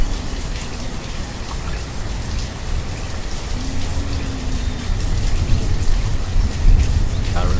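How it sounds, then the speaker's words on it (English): Steady rain hisses continuously as weather ambience in a medieval city-building game, a dense even wash of falling drops that grows slightly louder toward the end, with someone talking faintly over it. "current weather rainy and 26 degrees"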